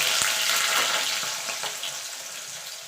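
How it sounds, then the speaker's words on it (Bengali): Eight pieces of a large potato fry in hot oil for a Bengali vegetarian jackfruit dish, a soft continuous sizzle and crackle with a faint tap near the start, fading slightly toward the end. "এবার আলুগুলোকে ভেজে নেব।"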